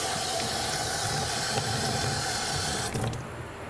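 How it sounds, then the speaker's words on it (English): Tap water runs steadily over an engraved wine glass at a sink, a close, loud, hissing stream that cuts off and softens just before the end. "Wash that off a little bit."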